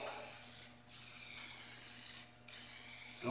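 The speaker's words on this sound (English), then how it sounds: "you just spray it on and walk away" Aerosol coating sprayed from a can onto a mixer mill in three long hissing bursts, separated by short pauses, close and steady.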